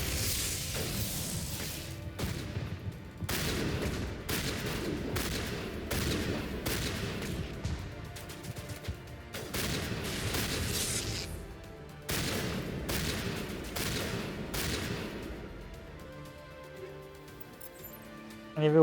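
Shotgun gunfire in Mass Effect, heavy blasts firing in repeated bursts through the clip amid combat noise, with scattered clinks and crashes around them.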